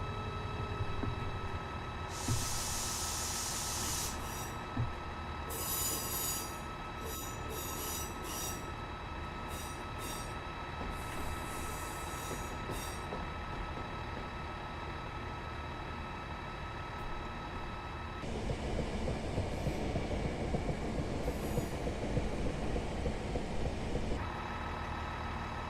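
A Class 158 diesel multiple unit running in Train Simulator 2021, with a steady rumbling drone, a continuous high whine and bursts of bright wheel squeal, shifting to a rougher, louder roar near the end.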